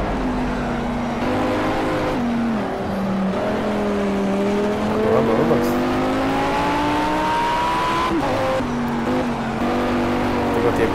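An Audi R8 engine in the racing game Project Cars, droning and revving steadily with pitch rising and falling through gear changes, loud and continuous throughout.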